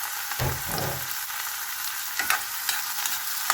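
Sweet potato added to a hot pan for sarciadong galunggong, a steady frying sizzle with a few soft stirring bumps and scrapes, close and continuous.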